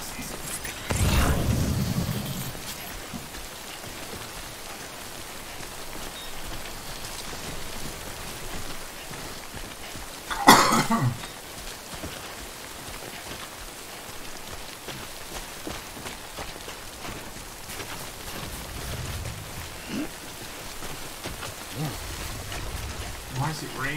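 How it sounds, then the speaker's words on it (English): Steady rain falling in the video game Death Stranding, a constant soft hiss with a couple of louder low thuds near the start and middle, and no talking. "Why is it raining?"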